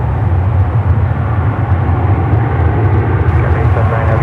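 United heavy jet taking off from runway 10 right at San Francisco airport, a loud steady low engine roar rumbling continuously and filling the whole stretch.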